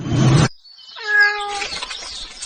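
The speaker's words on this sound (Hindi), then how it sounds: "अपनी इस बिल्ली को घर के बाहर रखा करो" A house cat meows once, a clear drawn-out cry standing alone after a brief burst of noise, fairly close and moderately loud.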